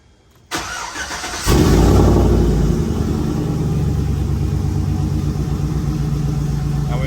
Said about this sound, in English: we got to start the vehicle now, and obviously my truck is really loud